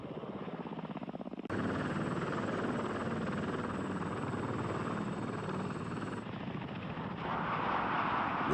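A Lockheed AH-56 Cheyenne attack helicopter flies past with a steady, loud rotor and engine roar that rises sharply after a quieter opening and holds with a high turbine whine, without any voices.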